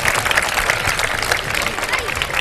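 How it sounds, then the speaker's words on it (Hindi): A studio audience on a Ramadan television broadcast gives loud, dense, continuous applause. The clapping stays sustained and even from start to finish. "अपने लिए ज़बरदस्त तालियाँ बजा दें एक दफ़ा"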